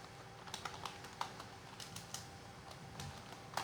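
Quick keystrokes on a computer keyboard as a company name is typed, a light irregular patter of clicks, close and fairly quiet.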